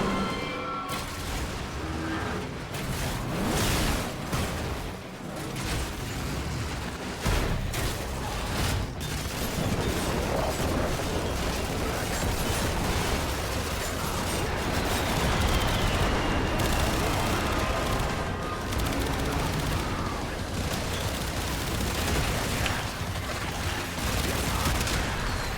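A tank fires in a video game amid heavy, dense gunfire and booming blasts, a continuous barrage at moderate loudness with no talk.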